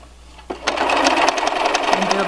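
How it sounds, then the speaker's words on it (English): A sewing machine running steadily as it stitches a cloth face mask with a back stitch, starting with a click then a fast, even mechanical rattle, close and loud. "And go and sew it, and again back stitch."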